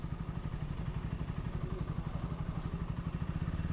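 A European-made motorcycle engine idles steadily and close by, with a fast, even pulsing beat and a metallic clatter throughout, running on its own with no talk.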